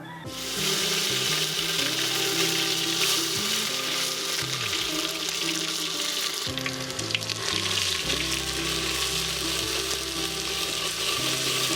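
Ginger garlic paste frying in oil in a clay pot, a loud, dense, continuous sizzle that holds steady the whole time with no talking.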